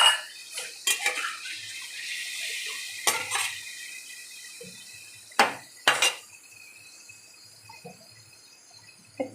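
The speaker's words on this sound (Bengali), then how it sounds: "একটু বাটিটা ধুয়ে জাস্ট একটু জল" A small bowl is rinsed with a little water, with short splashes and clinks of the bowl against the sink between quieter pauses.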